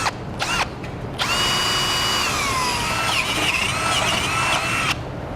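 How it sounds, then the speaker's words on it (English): A drill runs steadily with a smaller bit, boring a pilot hole centered in the hole of a Demco tabless base plate on a 2013 Jeep Wrangler; continuous whine after a couple of short bursts, loud and close, no talk. "switch it to a smaller drill bit to drill a pilot hole first"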